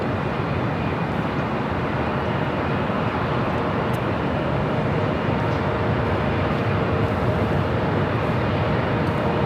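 A Delta A321neo airliner bound for Minneapolis departs LAX with a continuous broadband jet roar that holds steady and loud throughout, with no talk.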